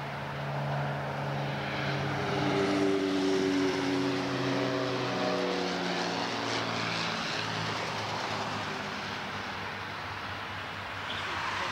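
A small propeller plane approaching near Niagara Falls, giving a continuous droning engine hum that holds steady and close for over ten seconds, with no talking over it.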